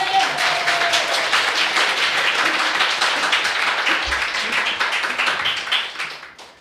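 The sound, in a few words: applause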